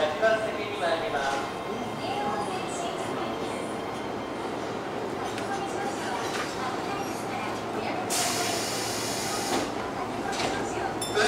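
Keio 7000 series electric commuter train pulling out of Meidaimae station in Tokyo, a steady rolling rumble with motor whine and platform announcements over it.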